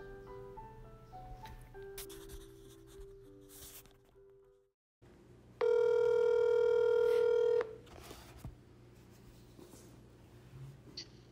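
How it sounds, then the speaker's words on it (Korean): A telephone call is placed: a run of dialing tones, a brief gap, then a steady loud ringback tone for about two seconds, followed by quieter line noise. "갑자기 전화를 걸어서 인터뷰를 해보려고 하는데요"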